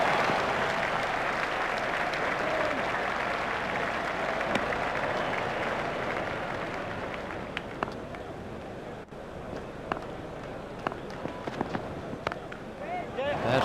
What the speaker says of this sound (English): Crowd were brought to their feet by that shot.